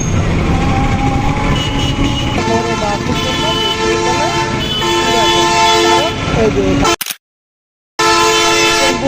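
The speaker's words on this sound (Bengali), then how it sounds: "বাস হর্ন দিচ্ছে" Repeated loud bus horn blasts amid busy street traffic noise and voices in Muradpur, then a brief dropout of silence.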